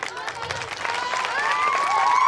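Audience at a school performance clapping briefly, a dense burst of many hands with cheering and a voice rising over it toward the end.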